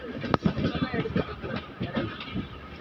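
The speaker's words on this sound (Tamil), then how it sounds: "ட்ரெயின் ஏன் ஸ்லோவாகுதுன்னு தெரில." A passenger train slows as it rounds a curved stretch of track, its carriages rumbling with faint clickety-clack beneath steady onboard noise while voices talk over it.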